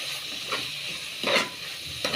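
Ground masala frying in oil in a pan as it is stirred, a steady hiss of sizzling with three brief scraping strokes of the spoon, close and fairly quiet.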